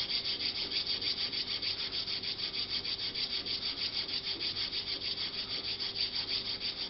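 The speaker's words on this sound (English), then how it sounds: "I'm going to go ahead and get on it with a different type of file for a little bit." A coarse hand file scrapes steadily across an AR-15 A2 birdcage flash hider, a continuous rhythmic rasping of quick back-and-forth strokes, close and fairly loud, with no talking.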